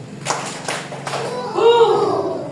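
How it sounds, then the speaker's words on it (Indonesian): A first-grade class claps together in a classroom, a few sharp hand claps in quick succession, followed by children's voices chanting and talking. "Tepuk tangan satu."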